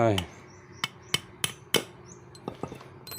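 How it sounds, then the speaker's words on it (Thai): Sharp hammer strikes on a nail ring out one at a time, about nine in all, spaced unevenly with quiet gaps between the blows, during rear disc brake work on a GPX Demon motorcycle. "ตะปูตอกลงไป"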